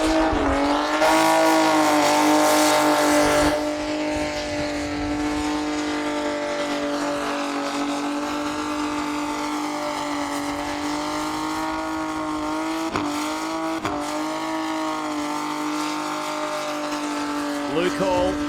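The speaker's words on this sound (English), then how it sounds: "Good note from the motor. Good smoke from the back end on the small skinny rear tyres." Car doing a burnout on small skinny rear tyres at a motor show, engine held at high revs with a steady droning exhaust note and tyre squeal, loud and sustained, with brief rev changes near the end.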